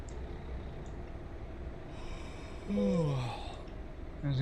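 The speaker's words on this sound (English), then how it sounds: "As you can see, the yawning sound of driver." Bus driver yawning in Euro Truck Simulator 2, with a Mercedes-Benz G7 Paradiso 1800 DD bus mod: a single drawn-out, sliding yawn near the end, over a low, steady rumble.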